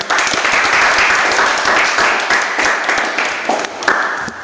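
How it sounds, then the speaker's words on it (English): An audience at a debate on nuclear power applauds the speakers at the close, loud sustained clapping with individual claps audible, easing slightly near the end. "round of applause for everybody"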